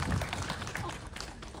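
Audience applause at a film screening, a brief burst of clapping from a small crowd in a hall, moderately loud and fading after under two seconds.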